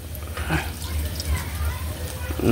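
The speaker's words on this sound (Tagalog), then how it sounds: "lagyan ng tubig" Water splashes and gurgles as it is poured into a cooking pot for a sardine and sponge gourd noodle dish, with a voice talking over the pouring.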